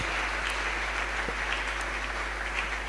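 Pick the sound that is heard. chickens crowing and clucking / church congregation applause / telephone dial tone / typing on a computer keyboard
church congregation applause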